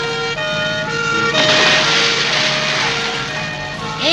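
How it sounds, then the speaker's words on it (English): A wailing cartoon ambulance siren in The Scooby-Doo Show sweeps up and down, loud and close, with a rumbling engine beneath it. "Hey, an ambulance."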